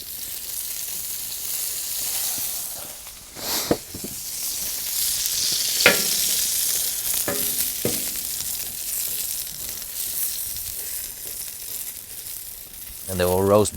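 Aubergines roast and sizzle in oil on a grill with a steady, close frying hiss that runs throughout, broken by a few brief clicks and scrapes; a short voice-like sound surfaces near the end.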